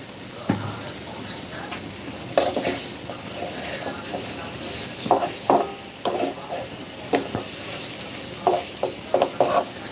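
Sea chapila fish are stirred in a pan of spice masala, with steady frying sizzle broken by repeated scraping stirs of a spoon, loud and close.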